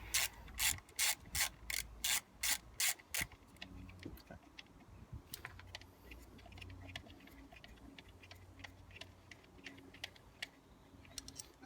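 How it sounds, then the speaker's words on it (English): A ratchet fitted with a 10mm socket clicks in a fast, loud burst of even ticks while undoing coil pack nuts on a 1.0 petrol Aygo/C1/107 engine during a service, then fainter scattered clicks and handling noises follow. "get yourself a ratchet with a 10mm socket on the end, and just undo these nuts"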